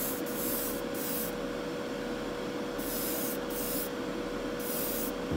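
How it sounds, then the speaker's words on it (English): Paint sprays onto a model in a workshop, a close, steady hiss in short repeated bursts with brief gaps between passes. "spraying it nice and even, just building it up nice"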